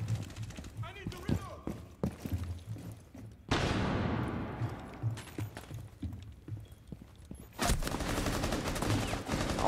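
Gunfire in the tactical shooter Rainbow Six Siege, with scattered shots and a sudden loud burst of rapid fire midway and again near the end, mixed with game noise and a player talking.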